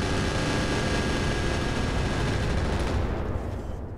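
Mech weapons, including heavy autocannon fire, pound continuously in the Roguetech battle game, a dense, loud, unbroken roar of overlapping shots that eases slightly near the end.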